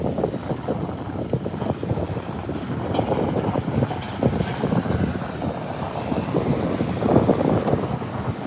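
Strong, gusty wind buffets the microphone outdoors at Starbase in Boca Chica, Texas, a steady loud roar with rumbling low-end surges and no voices.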